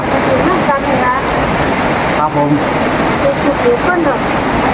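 Steady rain falls with a constant, fairly loud hiss and patter, while someone talks over it throughout.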